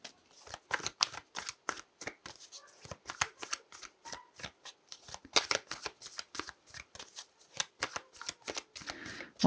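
A deck of animal spirit tarot cards is shuffled by hand in a long run of quick, crisp riffling bursts with brief gaps, close up and fairly loud, with no talking.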